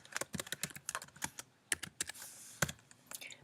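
Rapid typing on a computer keyboard, a burst of crisp, uneven key clicks at close range with short pauses between strokes and no voices.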